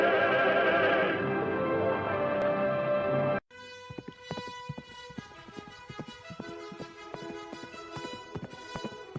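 Horse hoofbeats clip-clop in a steady galloping rhythm as a radio drama sound effect, first under a loud dense music passage, then continuing clearly and close beneath lighter orchestral music for the rest.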